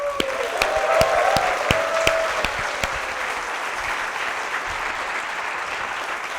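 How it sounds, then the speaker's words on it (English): Clapping heard during a live webinar training session, a steady wash of applause with a few sharp louder claps standing out early on, holding at an even level throughout. "can we clap it up for them on the live webinar right now?"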